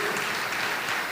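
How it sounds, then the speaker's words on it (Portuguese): A church congregation claps together in a dense, steady burst of applause that fills the hall, with no voices standing out. "Dá mais um aplauso a Ele bem forte"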